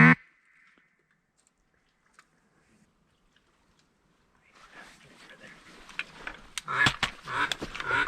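Ring-necked ducks call during an opening-day duck hunt in Virginia, starting with a faint note and then building into a busy, loud stretch of overlapping quacks and calls with voices talking nearby.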